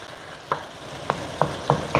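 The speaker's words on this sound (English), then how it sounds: "my beef and ground turkey getting browned" Beef and ground turkey browning in a pan for chili con carne: a steady sizzle runs throughout, broken by five sharp spatula scrapes and taps that come faster toward the end.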